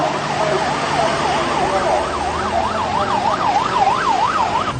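A fire truck siren wails in a fast rising-and-falling pattern, loud and fairly close, over the rumble of passing traffic during a parade with motorcycles, as traffic is cleared for the fire engines.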